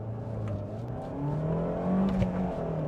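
A 1.4 litre, 90 horsepower car accelerates from a standstill toward 60 mph, its engine drone rising steadily in pitch through the gears, heard from inside the cabin, loud and continuous.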